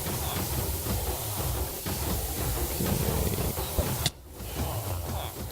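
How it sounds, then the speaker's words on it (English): A continuous broad hiss like sizzling in Minecraft, steady for several seconds, then cut off abruptly before resuming more faintly. "Love to hear that sizzle."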